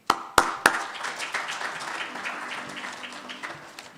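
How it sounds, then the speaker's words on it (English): An audience at an official laboratory unveiling event applauds to welcome the Executive Mayor, opening with a few sharp, loud claps before settling into steady clapping that slowly fades over several seconds. "So please, by a round of applause, to give us a vote of thanks, let's welcome Executive Mayor Malindi."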